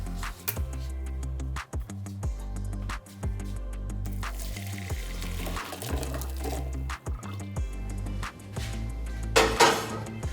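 Water from boiled potatoes drains out in a steady splashing pour, loud and close, with rhythmic gurgling pulses and a brief louder splash near the end.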